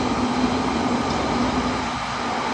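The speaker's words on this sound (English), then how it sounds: "You see it when the train goes to London." A London Underground train at a little-used station, a steady loud rumble and rail noise filling the whole moment with no voices.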